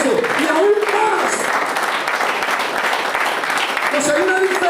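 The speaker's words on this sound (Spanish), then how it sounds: "Dale un fuerte aplauso a Dios por eso." A church congregation applauding during a sermon, a dense spread of clapping with whoops and voices calling out over it, loud and continuous throughout.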